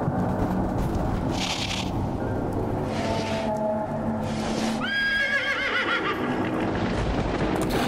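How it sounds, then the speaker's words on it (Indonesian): A horse neighs in the Tomb Raider Chronicles video game, with several loud whinnies over a dense rumbling game background and clip-clop-like sounds. "Ini kuda siapa ya anjir?"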